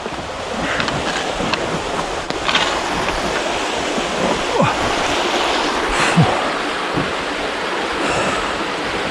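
Broad rushing water pouring over a weir on the River Soar at Wanlip, a steady loud wash with gusts of wind buffeting the microphone throughout.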